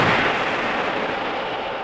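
A torpedo launching from tube 7 in a submarine battle game: a steady, loud broadband rush of pressurized air and water that holds nearly constant for the whole moment, slowly easing off, with no talking.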